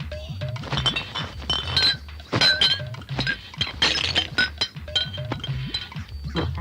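Glass bottles clinking and knocking together repeatedly in quick, irregular bursts, close and fairly loud, with occasional heavier thunks and no talk over it.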